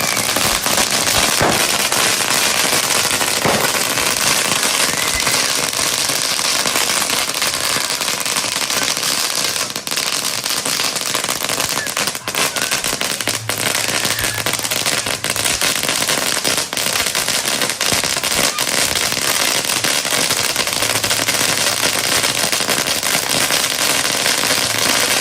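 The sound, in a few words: Christmas Eve fireworks display and firecrackers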